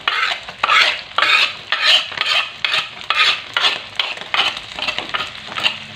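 Chilies being stirred into a frying pan for pete fried rice, a spatula scraping the pan in rhythmic strokes about twice a second over a light sizzle, close and loud.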